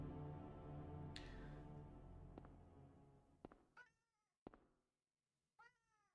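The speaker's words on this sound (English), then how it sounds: "Welcome back, kitty cat." A cat meows in the survival horror game Silent Hill 1, a few short drawn-out cries near the end after a low droning ambience fades and sharp knocks sound.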